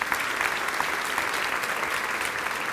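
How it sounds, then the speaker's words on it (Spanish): A church congregation applauds during a Spanish-language sermon, a dense and loud wall of clapping hands that stays even throughout and has no voices rising above it. "Le das un aplauso al Dios que quiere que ganemos."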